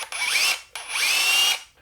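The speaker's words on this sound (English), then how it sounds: "This one is also 2 modes, so hammer drill." A hammer drill runs in two loud bursts, each spinning up with a rising whine and then cutting off after a short pause.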